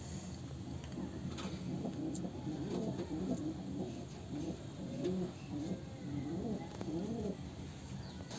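Pigeons coo steadily in a breeding loft, low rolling calls overlapping one another across the whole stretch, mid-distance and moderately loud over a faint background hum with no voices.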